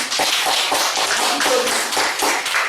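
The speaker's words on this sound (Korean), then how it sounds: "우리 그 두 부부를 박수 한번 쳐주는" Congregation applauding a married couple during a church sermon, loud rhythmic clapping in unison, evenly pulsed beats carrying on for the whole stretch.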